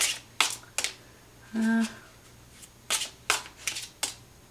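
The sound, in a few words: shuffling tarot cards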